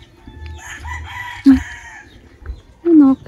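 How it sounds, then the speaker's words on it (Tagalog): A rooster from a collection of non-fighting roosters in Alaminos crows twice in short, loud bursts, set against a murmur of background voices and farmyard noise. "Manok, darling."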